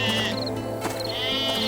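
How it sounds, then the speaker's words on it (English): Sheep bleat in a few drawn-out, wavering calls close by, filling the short stretch with no talk over them. "there were some shepherds keeping watch over their flocks of sheep"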